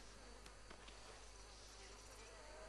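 Flies buzz steadily around a dirty turtle in the Red Dead Redemption II game, a faint, continuous insect drone with no talk over it.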